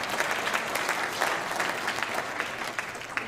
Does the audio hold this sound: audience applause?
yes